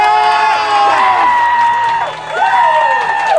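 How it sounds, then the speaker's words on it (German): A crowd claps and cheers loudly at a live gathering, with whoops and high shouts rising and falling over a steady din of applause. "Can you clap again for me, please?"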